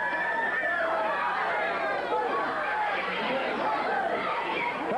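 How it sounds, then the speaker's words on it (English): A wrestling crowd at a 1978 Sacramento Big Time Wrestling event roars and shouts continuously, a dense babble of cheering voices. "The crowd's roaring."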